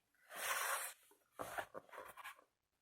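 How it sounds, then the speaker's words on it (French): A pencil draws a light line on paper while a mini album is being made: soft, close, scratchy strokes, one longer sweep followed by a few shorter ones, quiet with no talk. "Vous tracez un trait léger puisqu'il faudra le gommer"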